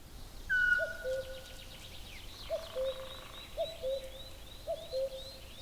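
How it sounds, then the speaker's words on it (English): A little owl, a small European bird of prey, perched on a tree trunk in mountain woodland gives short, repeated call notes at a steady rhythm, four or five calls spaced about a second apart over a faint background of other birds. "The little owl is the smallest bird of prey in Europe."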